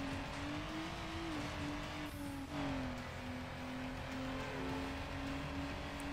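A car at full throttle in the racing video game Need for Speed Underground, a steady high engine whine that holds at a constant pitch with slight shifts, continuous and fairly faint, with no talk.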